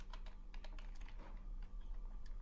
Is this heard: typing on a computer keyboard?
yes